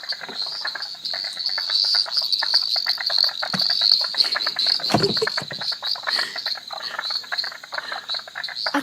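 A dense chorus of many frogs croaking at a garden pond after rain, close and loud, with insect-like trilling throughout and a few deeper croaks standing out.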